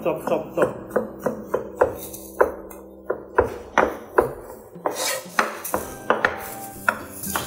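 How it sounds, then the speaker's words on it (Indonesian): A knife chops three garlic cloves roughly on a board, giving a steady run of about twenty close, sharp knocks, with quicker strokes bunched toward the end. "Dan cukup dipotong agak kasar aja, chop."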